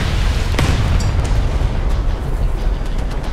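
A warship's magazine explodes in a naval combat video game, a loud deep boom with rumbling blast noise and sharp crackling bursts that run on for several seconds.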